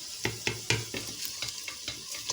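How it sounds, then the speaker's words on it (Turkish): Tomato paste and onions fry in a pan for a madımak dish. A steady, close sizzle runs underneath while a spoon scrapes and stirs in a regular rhythm, about four strokes per second, with no talking. "Bir yemek kaşığı domates salçasını ekleyip domates salçasını da kavuralım."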